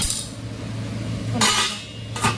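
A metal spoon clinks and scrapes against a pot of boiling water with rice in a few short bursts over a low steady hum.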